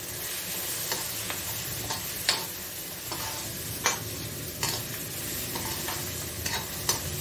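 Onions frying in a pan under a constant close sizzle, with regular scrapes and clicks of a spoon stirring them at roughly one-second intervals.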